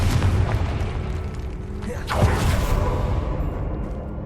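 A Confringo blast spell detonates in Hogwarts Legacy, a single booming explosion with a rushing whoosh around the middle, set over a continuous low rumbling game ambience.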